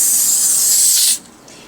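Adhesive remover sprayed from a can onto a box set book, a steady loud hiss lasting about a second before cutting off, followed by faint residual hiss.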